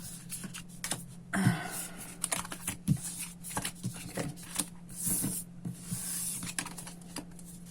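Close, quick bursts of typing on a computer keyboard, irregular clusters of clicks separated by short pauses over a faint steady hum, with no talking.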